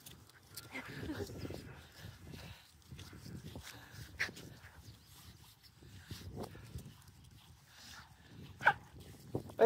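A puppy gives faint whimpers and a few short barks at a distance, scattered under quiet talk and background rustling.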